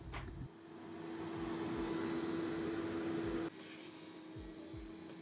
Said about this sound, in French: on va prendre là l'aspirateur et aspirer toute l'air qu'il y a pour avoir un minimum de place